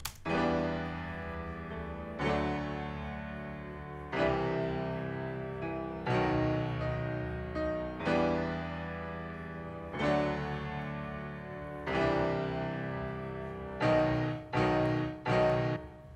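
Strummed synth chords with scattered single notes between them, in an FL Studio future house track; sustained chords re-struck every two seconds, quicker stabs near the end, moderate level, no voices.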